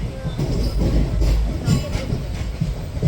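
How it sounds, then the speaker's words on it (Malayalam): Rumble and rhythmic rattle of a moving intercity express train heard from inside, steady and loud with faint voices in the carriage. "അപ്പോൾ ഈ ട്രെയിൻ സ്പീഡില്ലാത്ത ട്രെയിനാണ്"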